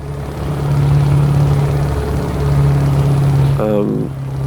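Scania R truck engine in Euro Truck Simulator 2 drones steadily at low revs, a loud, continuous heavy hum that holds for several seconds before a brief shift near the end.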